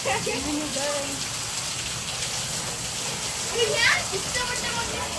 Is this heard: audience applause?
no